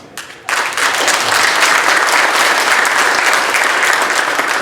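Audience applause breaks out after a brief quieter moment and then holds as loud, dense, sustained clapping from a crowd, steady to the end.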